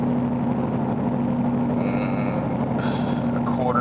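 A 2008 Nissan Titan pickup's engine revving as the RE5R05A automatic transmission downshifts from fourth to third under throttle, a steady loud drone heard from inside the cab, rising briefly near the end.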